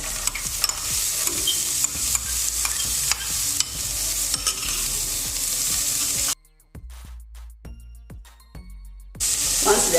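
Vegetables fry with onion in hot oil in a pan, giving a loud, continuous sizzle with scraping stirs. The sizzle drops away abruptly for a few seconds near the end and then returns.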